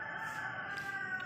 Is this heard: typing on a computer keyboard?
no